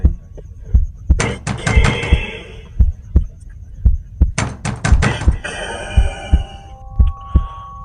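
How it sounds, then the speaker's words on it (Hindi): Heavy, spaced knocks on a door as a horror story sound effect, loud thuds in an irregular rhythm layered over eerie music and a low throbbing drone. "तभी दरवाजे पर खटखटाहट होने लगी"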